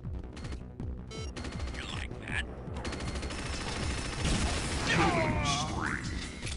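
Rapid gunfire and weapon clatter from an Unreal Tournament match, with dense repeated shots and mechanical clanks over a busy game soundscape; a voice talks now and then beneath the action.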